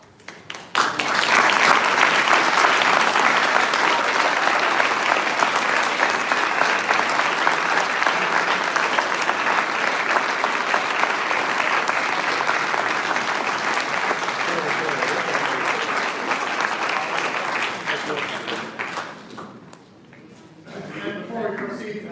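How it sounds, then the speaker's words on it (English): A commencement audience breaks into loud, sustained applause lasting nearly twenty seconds, then fades out with a brief voice afterward. "a round of applause for our wonderful, beautiful Commencement quartet"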